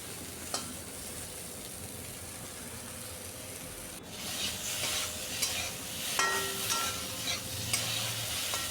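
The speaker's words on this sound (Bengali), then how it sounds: "হলুদ দিয়ে ভেন্ডিগুলো ভেজে নিচ্ছি" Okra frying in oil with turmeric and salt, cooked lightly in a pan, gives a steady close sizzle with stirring and rubbing scrapes, brief clicks and a louder stir from midway.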